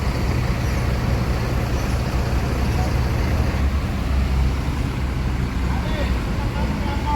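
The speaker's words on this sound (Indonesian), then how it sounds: "Nah, ada lagi ini yang bus terbarunya ya, SR3 Panorama Single Glass." A new Putra Remaja SR3 Panorama Single Glass bus rolls along a busy road in a convoy, a continuous loud engine and tyre roar mixed with steady traffic noise, close and unbroken throughout.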